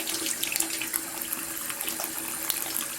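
A bathroom tap runs steadily into the sink while a child brushes teeth, a constant close hiss and splash of water with no voices.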